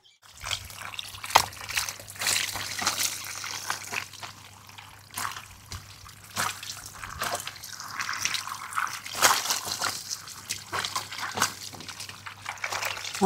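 Tap water trickles and splashes over mango pieces being washed, an uneven stream of drips and pours near at hand, with a faint low hum underneath.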